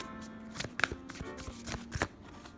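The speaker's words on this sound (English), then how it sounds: "I'll give these a real good shuffle." A deck of tarot cards is given a vigorous shuffle, a quick run of papery riffles and soft slaps close up, with no talking.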